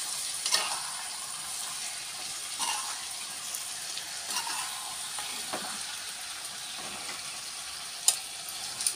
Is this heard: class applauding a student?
no